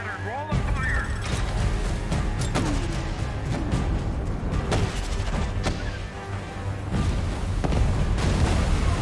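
Depth charges rolled and fired from a WWII destroyer in the film Greyhound produce a run of heavy booms and thuds over steady ship noise, with shouted orders from the crew in between.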